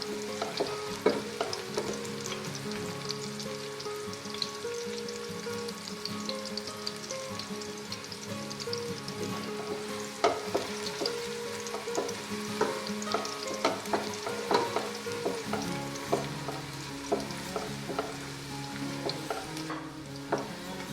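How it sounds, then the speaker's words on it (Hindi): Sliced onions frying toward golden brown for haleem hiss and crackle in a pan, with frequent close scrapes and clinks from a stirring utensil throughout and no talking. "ये प्याज तकरीबन फ्राई हो गया, बस थोड़ा सा ये और फ्राई होना बाकी है।"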